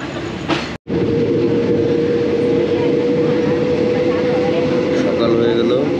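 A passenger train on the overnight Surat Thani to Bangkok route in Thailand rumbles along with a steady, loud, continuous roar and hum, broken by one brief dropout near the start, with faint voices mixed in.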